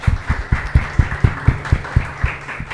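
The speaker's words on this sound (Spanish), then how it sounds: "Un aplauso." A small group applauds at an outdoor trail-running talk: about a dozen steady, evenly spaced claps over roughly three seconds, close and moderately loud, with no talking.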